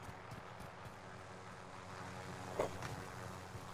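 A video game helicopter in Call of Duty Warzone: a steady low engine drone, like an aircraft passing at a distance, rumbling continuously with a faint thump partway through.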